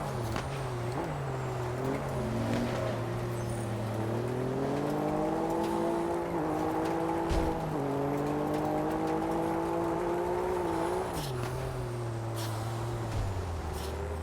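Ford Raptor pickup tuned to nearly 700 horsepower, driven over dirt in the Test Drive Unlimited Solar Crown racing game, its engine droning steadily and rising in pitch through long accelerations, loud and continuous with brief shifts and no talking.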